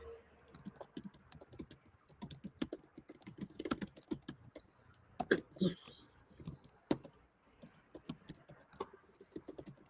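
Steady, fairly quiet computer keyboard typing as a prompt is entered, irregular key clicks spread throughout with no talking over them.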